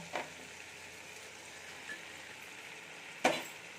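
Pointed gourd, fried earlier, added to a spiced masala for a prawn dish, frying with a low steady sizzle and a few sharp clatters of stirring or dropping pieces, with no talk.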